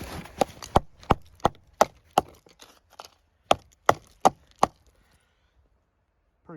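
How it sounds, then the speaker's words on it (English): Sharp hollow knocks against a frozen animal water container to break out ice, about a dozen distinct strikes in an uneven rhythm, close and fairly loud, then quiet. "Pretty much just try to knock most of that ice."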